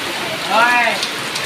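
Unseasonal rain falls with strong gusting wind, a steady dense patter on surfaces, and a voice briefly heard over it.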